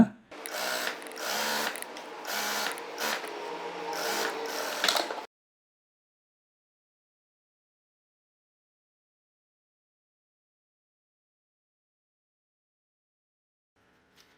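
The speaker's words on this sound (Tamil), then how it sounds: "நம்ம எவ்வளோ தூரம் தையல் போட முடியுமோ அந்த இடத்துலேருந்து தையல் போடுங்க" A domestic sewing machine runs in short bursts while stitching a cotton blouse, a close, rapid mechanical chatter for about five seconds before it stops and near silence follows.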